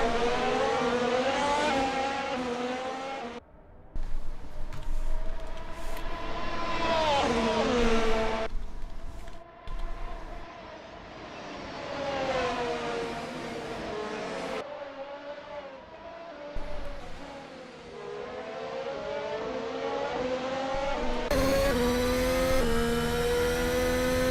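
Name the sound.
race car lapping Silverstone Grand Prix circuit in racing game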